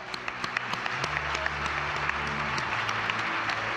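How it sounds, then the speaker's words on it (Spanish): An audience at an Argentine football tribute event applauds steadily, a dense, moderately distant clapping that carries on without a break. "El aplauso para el señor Martín Bossi"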